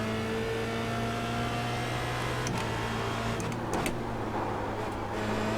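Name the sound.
Formula Renault 2.0 race car engine accelerating, iRacing video game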